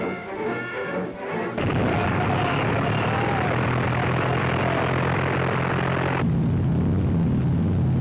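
Several World War II B-25 Mitchell medium bombers of the 3rd Attack Group take off together, a loud, steady roar of propeller engines filling the air after a brief rougher opening.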